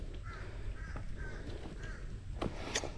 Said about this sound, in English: it is noisy in here with all these birds flying around